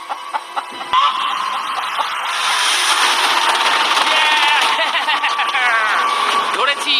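A chicken clucks repeatedly during a hectic chase to catch it, with short raised calls mixed into excited voices and general commotion nearby.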